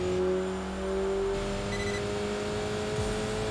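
An inline four-cylinder car accelerates in the Enthusia Professional Racing game, a steady engine drone with rising harmonic tones and a sustained, fairly loud whine throughout.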